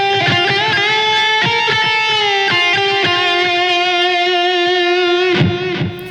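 An electric guitar plays a solo phrase, raising a note with a bend and closing with a blues lick resolving on F; clean, sustained singing notes with picked attacks, up close and alone.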